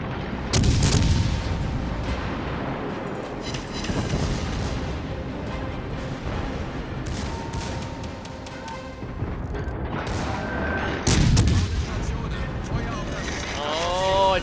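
Heavy cruiser main guns of a British warship firing in a naval battle video game, booming salvos with rumbling tails, the loudest near the start and again toward the end, while an excited voice talks over the gameplay.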